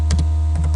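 Keys clacking on a computer keyboard as a command is typed, a few quick keystroke clusters separated by a short pause, close and clear over a steady low electrical hum.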